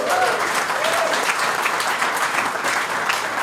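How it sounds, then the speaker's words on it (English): An audience at a live outdoor event claps and cheers loudly and steadily throughout, with a few voices shouting over the applause. "Can I get a little applause for Milton's, please?"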